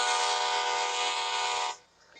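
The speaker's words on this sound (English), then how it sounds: "Welcome to New Jersey, Amtrak train." An Amtrak passenger train in New Jersey sounds a loud, sustained multi-tone horn blast close by for nearly two seconds, then cuts off abruptly, leaving faint rumbling.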